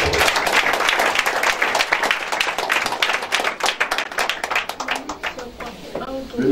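A church congregation at a Sunday service applauds and cheers the Lord, loud sustained clapping from many hands that thins out toward the end, with voices calling out and a speaker's voice over the crowd.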